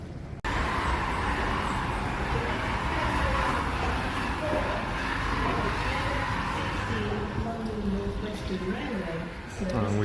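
Class 350 electric train at Birmingham International station on the West Coast Main Line, a steady low rumble and whine of the train filling the platform, with muffled voices and station hubbub throughout.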